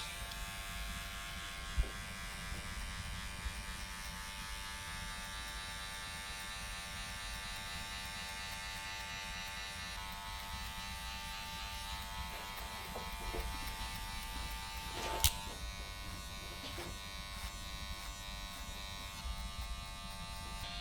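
Electric hair clippers cutting a skin fade, a steady close buzz with a strong mains-like hum that runs throughout, broken by a couple of brief sharp clicks.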